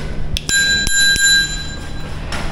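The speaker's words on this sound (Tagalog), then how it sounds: "Saka siyempre itong ating bell." A bicycle bell, newly bought online, rings in a few quick sharp dings near the start with a sustained ring fading over a couple of seconds, close and alone with no talk.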